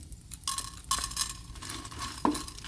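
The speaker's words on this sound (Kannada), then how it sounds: "ಇದನ್ನು ಡ್ರೈ ರೋಸ್ಟ್ ಮಾಡ್ಕೊಳ್ತಾ ಇದ್ದೀನಿ" Urad dal and chana dal being dry-roasted in a pan without oil for chutney, with steady scraping and stirring of dry lentils, scattered light clinks, close and moderately loud.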